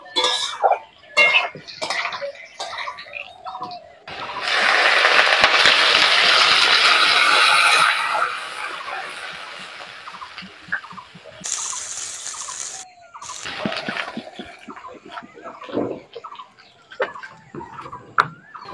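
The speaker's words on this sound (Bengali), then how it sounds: "এবার আমি জল দিয়ে দেবো।" Water poured into a pan of fried potatoes makes a loud gushing splash lasting several seconds, with a second hissing burst later. Sharp metal clinks and utensil knocks from the pan come before and after.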